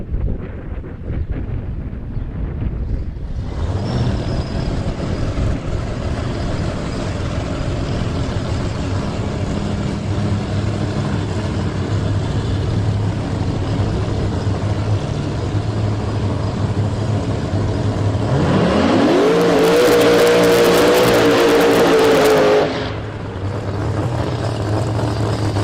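A Charger drag racing car at an IHRA track, heard as a long steady engine roar with wind buffeting, then a sharp rising surge as it launches loudly before cutting off.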